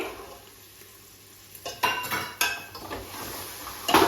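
Green peas tipped into a pan for Punjabi matar pulao, with a low sizzle and then a run of clattering metal spoon-on-pan scrapes and knocks as they are stirred; no talk.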